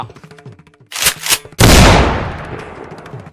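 A single loud, sharp gunshot with a long echoing decay, preceded by a couple of shorter bursts of noise.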